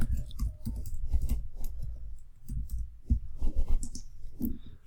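A computer mouse clicks at close range in a quiet room, a string of small, dry taps in uneven bursts.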